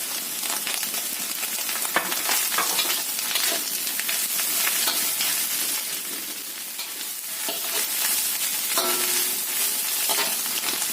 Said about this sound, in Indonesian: Masukkan sawinya dan bawang dan seledrinya.